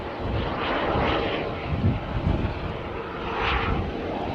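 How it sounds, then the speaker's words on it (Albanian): A helicopter lands at a villa development in Saudi Arabia, its engine and rotor roar rising and falling as a loud, steady, broadband drone that swells twice. "Helikopteri është duke ulur në vendin e tij."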